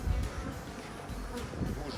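A dense swarm of bees buzzes continuously and close, a steady low hum without pause.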